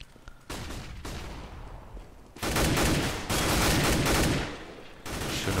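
Rapid bursts of Counter-Strike gunfire on de_nuke crackle in dense volleys during an ESEA match, growing louder and more sustained midway, with no voices over them.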